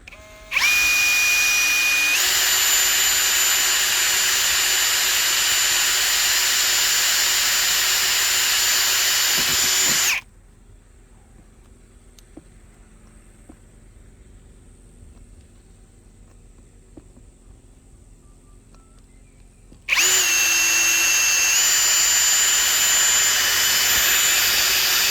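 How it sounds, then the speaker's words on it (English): A power drill whines loudly for about ten seconds drilling holes into a Mitsubishi Rosa van roof, falls quiet for a stretch with faint background hum, then starts up again for the final few seconds. "So let's drill the holes now."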